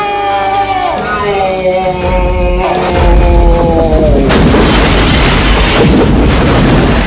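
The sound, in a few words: gun fired at its highest setting in a film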